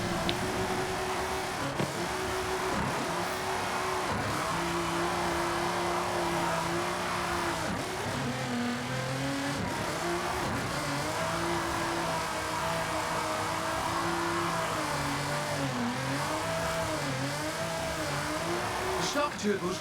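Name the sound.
Nissan GTR engine driving in Forza Horizon 5 video game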